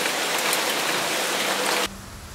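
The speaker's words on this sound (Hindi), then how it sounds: "पर जोर से बारिश हुई" Heavy rain pours down in a loud, steady roar that stops suddenly near the end, leaving a quieter background.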